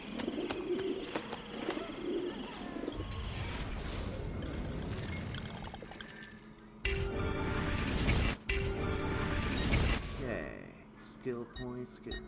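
Pigeons cooing at a pigeon coop in the video game Assassin's Creed Brotherhood, soft repeated coos early on, then buried under louder game effects and menu sounds while a person talks.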